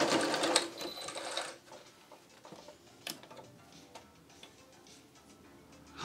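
A sewing machine stitches fabric for a clown bodysuit, a dense loud burst of rapid needle clatter in the first second and a half, then quieter intermittent ticking and small mechanical clicks.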